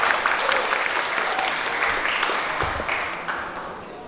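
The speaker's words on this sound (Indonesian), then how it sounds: "Mohon dikasih tepuk tangan yang meriah." A crowd at an Isra Mi'raj gathering applauds warmly for a newly arrived kiai, a dense wash of many hands clapping at once, steady and fairly loud, tapering slightly toward the end.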